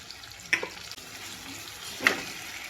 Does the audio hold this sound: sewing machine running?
no